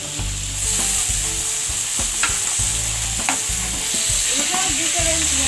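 Sliced sausage and tomato sizzle loudly in a pan, a steady hiss of frying under repeated scraping and stirring strokes, close and continuous without speech.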